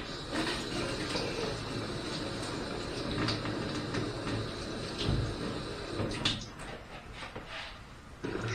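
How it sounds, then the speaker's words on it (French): Dried meat being rinsed under a steady stream of running tap water, a continuous close splashing wash with a few clatters near the end. "maintenant, on va rincer tout ça"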